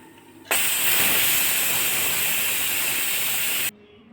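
A loud, sudden rush of hissing steam bursts out of a pressure cooker being opened after cooking mutton and chicken liver, holds steady for about three seconds, then cuts off abruptly.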